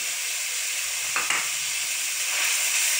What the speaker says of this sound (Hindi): अभी अच्छे से फ्राई हो रही हैं क्योंकि ये थोड़ी हार्ड होती हैं गाजरें